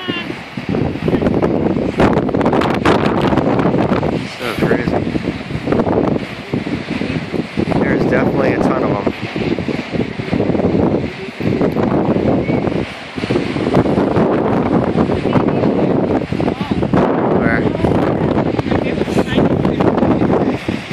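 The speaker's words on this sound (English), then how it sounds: "Wow, it's so windy." Strong wind buffets the microphone on the Pacific coast near an elephant seal beach, a loud continuous roar with gusty surges and brief lulls, and voices can be heard faintly beneath it.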